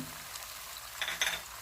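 Ginger and whole cumin fry in oil while being stirred for bhuna gosht, giving a soft, steady sizzle with a couple of brief scraping bursts near the end.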